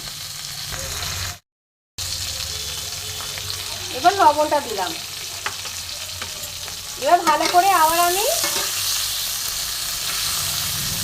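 Chopped vegetable stems and potatoes fry in oil with turmeric and salt for a vegetarian dish, a constant hissing sizzle with scraping stirs, joined by brief speech twice.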